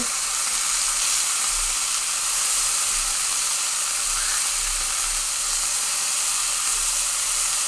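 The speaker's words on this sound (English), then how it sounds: "Okay, so this pan is now quite hot. I'm almost deep frying these." Peameal bacon sizzles and crackles loudly in a very hot pan, almost deep frying, a continuous dense frying hiss with no pauses.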